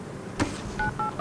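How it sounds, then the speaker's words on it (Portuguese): Telephone keypad tones as a number is dialed, three short steady beeps in quick succession after a brief rustle, fairly close and clear. "Quem liga pro Pereio? Tá limpo, mano. Eu ligo."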